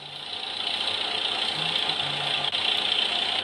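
A car engine in a mobile city-decorating game hums at a steady idle, a continuous mid-pitched drone with a slight knock, holding evenly for a few seconds with one brief dip near the end.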